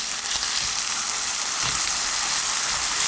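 Soy sauce, chili powder and corn syrup simmer and sizzle steadily in a pan over medium-low heat for spicy Spam kimbap, a close, continuous bubbling hiss with no voices.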